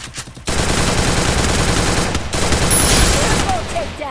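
Rapid automatic gunfire fills a shooting video game, a dense, loud, continuous burst that starts abruptly after a short quiet moment and runs almost without a break.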